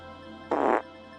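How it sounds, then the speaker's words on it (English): A short, low, buzzy fart lasting about a third of a second, fairly close, against a quiet background hum. "would you quit farting?"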